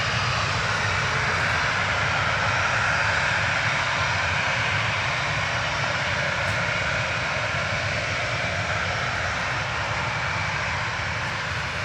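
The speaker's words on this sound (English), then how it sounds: "I think I can hear the engine starting to start a bit more now." A steady, loud roar of jet airliner engines spooling up for departure at Manchester Airport, a broad continuous rumble and hiss with no break.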